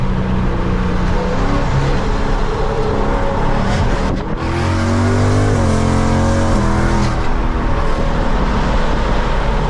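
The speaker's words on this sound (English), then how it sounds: "Let's get some more downshifts." A 2024 Ford Mustang GT V8 roars loudly up close under hard driving, its exhaust rising and falling through rev-matched downshifts, with a brief dip and then a strong climb in engine pitch.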